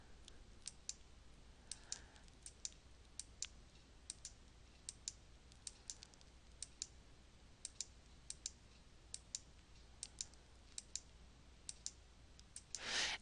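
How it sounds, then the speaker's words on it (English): A computer mouse clicks through slides on screen, with sharp, faint, evenly scattered single and double clicks over quiet room tone, ending in a brief louder rustle. "I will click through the screen"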